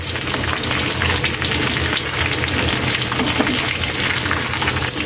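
Pork frying in its own rendered fat, giving a steady, close, even sizzle and crackle that holds throughout with no talking.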